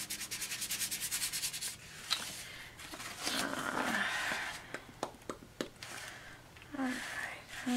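Fingers rub green and white paint across a mixed media mail art piece, giving soft, close scratchy strokes in uneven bursts, some dry papery swipes and a few sharp taps between them.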